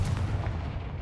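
A Confringo fire spell blasting in a Harry Potter video game, a dense, rumbling boom of fiery energy sustained loud and close throughout the short burst, with no voices.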